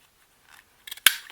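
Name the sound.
scissors cutting up paper masterboards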